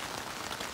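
Steady rain drums on the fabric of a Luxe Twinpeak tent at night in cold weather, a dense, continuous patter filling the short stretch with no voices.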